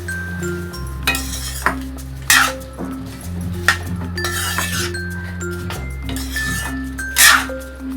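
Vegetables and rice being stirred and sautéed together in a pan for a quick mint rice, with repeated metallic clinks and scrapes of a spoon against the pan over a low sizzle and steady background music, no speech.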